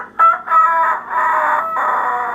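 A loud, close rooster crow sound effect stretches into a long, drawn-out cock-a-doodle-doo with a sharp opening note, with no talking.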